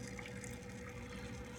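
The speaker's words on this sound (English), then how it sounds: "How fast that water's coming through there." Aquarium pump on a 28 gallon nano tank pushing water through the filter, a continuous rushing, gurgling flow with a faint steady hum, even and close.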